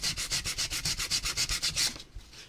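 Wood is sanded by hand with 100 grit sandpaper on a painted craft piece in quick, even back-and-forth strokes, about a dozen rhythmic rasping passes close by before the rubbing stops.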